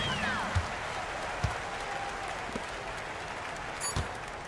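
A home crowd in a basketball video game, a virtual Euroleague match, gives a steady low wash of applause and murmuring throughout, with a few louder thumps and no clear speech.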